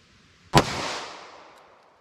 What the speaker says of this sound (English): First up, I've got the 38 Special standard pressure.